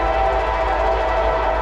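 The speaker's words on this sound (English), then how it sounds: "Give me a horn show." A CSX freight train blasts its air horn in one loud, steady, sustained tone close by, with the engine's low rumble underneath.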